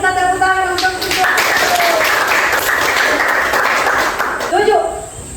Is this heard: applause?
yes